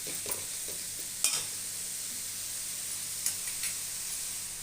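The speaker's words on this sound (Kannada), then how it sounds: "ಚೆನ್ನಾಗಿ ಫ್ರೈ ಆಗಲಿ." Fried rice being stir-fried in a pan, a steady soft sizzle with a few sharp scraping clacks of the utensil against the pan.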